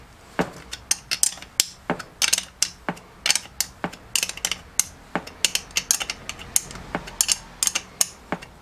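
Ratchet tightening bolts on the front subframe of a Peugeot, a rapid series of sharp metallic clicks in uneven bursts, close and crisp with little else around.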